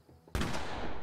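Single gunshot in The Quarry, from a large hand cannon: after a quiet moment comes a sudden loud blast followed by a long reverberant rumbling tail.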